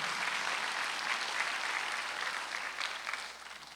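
Congregation clapping steadily through a Sunday worship service at a church, a dense, continuous wash of applause filling the room with no voices standing out.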